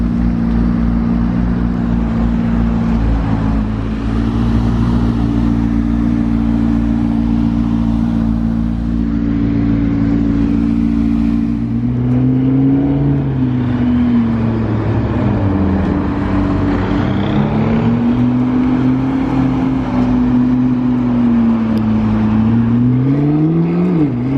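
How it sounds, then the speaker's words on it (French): Hypercars in Monaco idle and rev together as they prepare to drive off, a loud, steady engine drone whose pitch rises and falls with revving in the second half, close and continuous, with no talk. "avec toutes les voitures qui sont là juste derrière, et je crois qu'elles sont sur le point de partir en plus"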